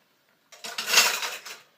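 Dishes and cutlery clatter and scrape as they are washed and handled at a kitchen sink, a close, busy burst of clinking china and metal lasting under two seconds with no voices.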